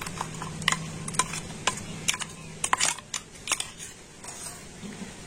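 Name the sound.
straining ground sago paste through a large sieve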